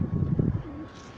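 Soft low pigeon coos, a short burst of throaty warbling notes at close range that fades into quiet background.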